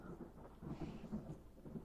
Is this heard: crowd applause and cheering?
no